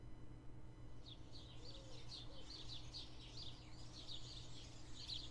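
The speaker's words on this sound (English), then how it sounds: "Ah, sounds good. The birds." Birds chirp softly in a visual novel game scene, a continuous run of faint, high twittering calls over a low steady background hum.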